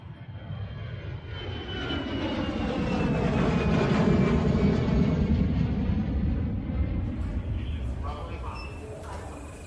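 A propeller airplane engine drones loudly, swelling as it passes close and then fading, with a rough, throbbing roar throughout.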